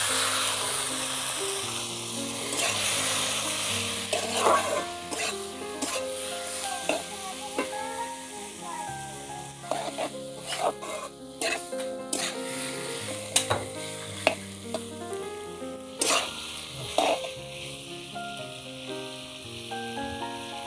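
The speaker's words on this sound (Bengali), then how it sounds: "এবার চিকেনগুলো কড়াইতে দিয়ে দেবো।" Chicken pieces fry in a hot wok (kadai) with spices for bhuna khichuri, giving a loud continuous sizzle broken by repeated scraping and clattering stirs of a spatula, with no voices.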